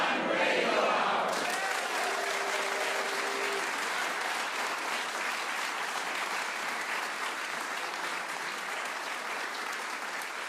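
A studio audience at the WoodSongs Old Time Radio Hour breaks into energetic applause with some cheering, rising sharply after a brief moment and continuing steadily as a full, dense wash of clapping.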